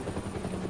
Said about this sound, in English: A damn helicopter!